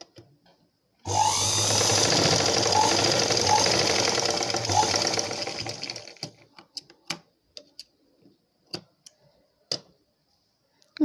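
A sewing machine runs in one continuous burst of stitching on blouse darts for about five seconds, close and steady, then slows and stops. Scattered clicks and taps of handling the fabric follow.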